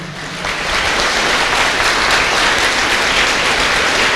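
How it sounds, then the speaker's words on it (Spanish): Loud, sustained applause from a church congregation, a dense, even roar of many hands clapping that holds steady throughout with little speech. "Aplauda al Señor."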